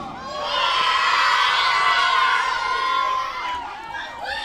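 A group of children outdoors shouting and cheering together, a loud sustained chorus of high excited voices with a few whoops and some chatter as it tails off.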